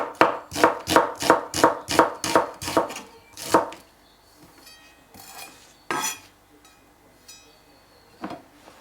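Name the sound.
chopping an onion finely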